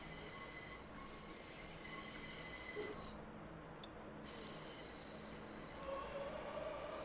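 Another train pulls away in the Train Sim Classic railway simulator, with a steady rumble of rail cars, wheel squeal and tonal whine that carries on without any talk.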